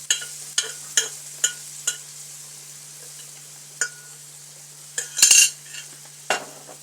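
Cooked chickpeas for a curry are tipped into a pan and stirred, giving a series of sharp metallic spoon scrapes and clinks spaced out over a quiet background, with one longer rattling burst near the end.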